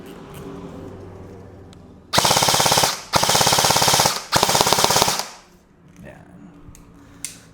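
An airsoft rifle fires full auto in three loud, rapid bursts of about a second each, sharp mechanical clatter with short pauses between, close to the listener, then quiet handling noise.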